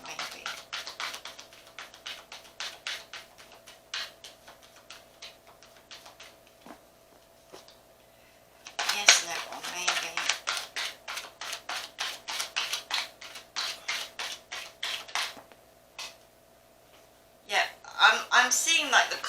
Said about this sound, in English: the cards really come out slowly when I'm shuffling here